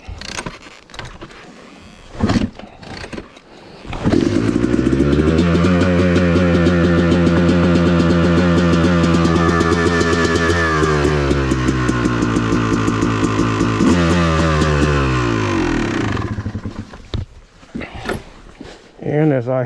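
An off-road motorcycle engine with the choke on cranks, catches and starts, then runs loud and close with a steady throbbing idle and rising revs for about ten seconds before dropping away. A voice is heard briefly at the start and end.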